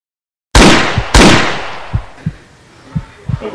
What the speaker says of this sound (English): This nigga is shooting in his house.